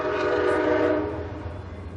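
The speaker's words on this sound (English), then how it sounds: "try and talk over this train whistle" A passing train sounds its horn during an outdoor police press conference in Fayetteville, a loud sustained tonal blast that fades gradually toward the end, with no talking over it.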